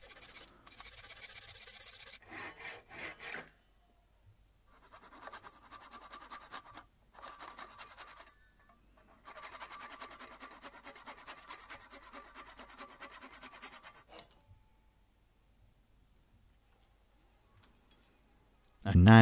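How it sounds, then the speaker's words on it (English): A Japanese pull saw rasps through a wooden dowel in several rhythmic bursts of back-and-forth strokes, close and moderately loud, separated by short pauses. "now with a Japanese pull saw, I'm just going to take off those excess pieces of dowel"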